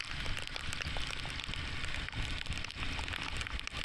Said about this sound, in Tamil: ரிட்டன் வரும்பொழுதும் கண்டினியூஸாக மழை பெஞ்சிட்ருக்கு